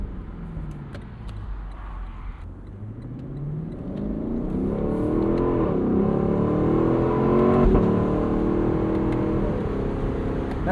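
A 2025 Lexus LC 500 Convertible's V8 engine revs and pulls, its rich mid-pitched drone sweeping up and down in pitch and swelling louder midway, close and steady throughout with no talking.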